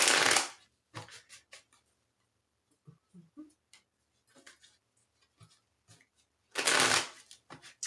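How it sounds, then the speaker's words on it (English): Tarot cards are riffled in a couple of loud, dense bursts at the start and end, with soft scattered taps and card handling in between. "A couple more shuffles."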